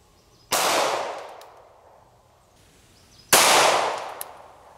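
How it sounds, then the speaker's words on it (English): Two loud, sharp gunshot cracks with decaying echo, a few seconds apart, from a Canik TP9SF pistol firing 9mm 124 grain full metal jacket rounds into a book outdoors. "shoot it again, but this time we're gonna use a 9mm, 124 grain full metal jacket out of our Canic"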